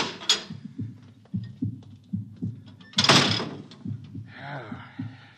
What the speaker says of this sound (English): I'll open the bulkhead.